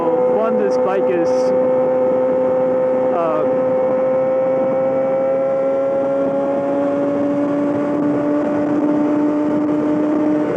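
Yamaha R6 sport motorcycle fitted with a full M4 exhaust system, riding along with a steady engine drone and a brief rise in revs, loud and continuous throughout with light wind noise.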